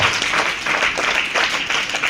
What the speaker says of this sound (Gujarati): તેમને પણ તાળીઓથી આપણે અભિવાદિત કરીએ છીએ.